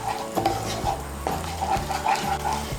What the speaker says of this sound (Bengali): টক দইটাকে মশলার সঙ্গে ভালো করে মিশিয়ে নেব